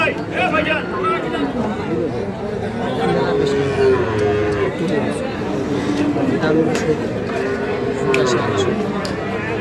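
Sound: cattle at a bull market

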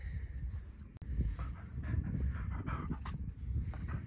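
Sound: dog panting

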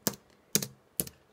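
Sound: typing on a computer keyboard

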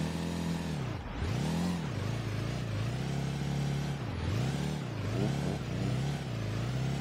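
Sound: car engine revving in video game

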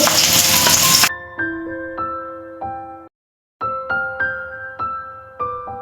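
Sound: snakehead fish frying in oil

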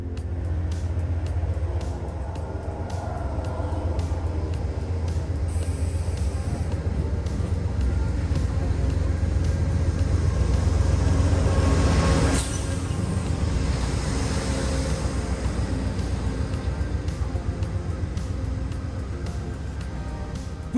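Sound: Amtrak Hartford Line train departing station

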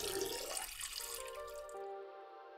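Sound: Heidolph Laborota self-filling water bath filling with water

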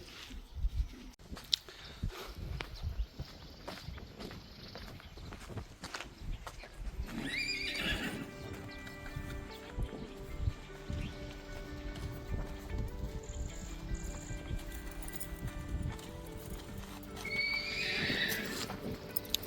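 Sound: mares neighing and hooves clip-clopping

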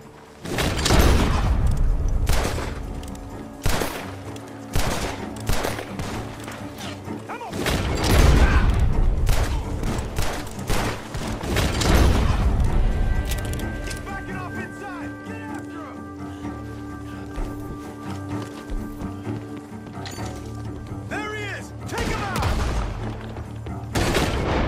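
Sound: gunshots in the video game Red Dead Redemption 2

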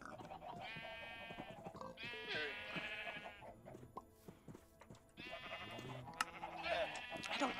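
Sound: sheep bleating in Minecraft video game

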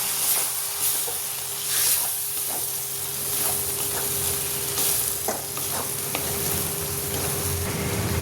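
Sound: water added to frying spice paste, sizzling

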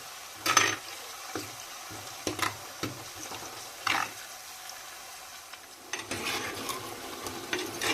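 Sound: onion, ginger, garlic and brinjal frying in a pan

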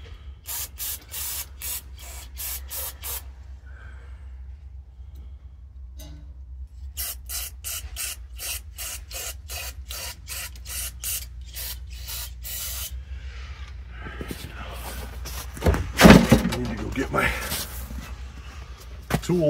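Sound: spraying cleaner into an old Toro snowblower carburetor

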